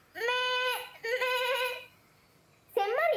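Sheep bleating, loud and close, with two long wavering bleats in quick succession, a short pause, then a third bleat beginning.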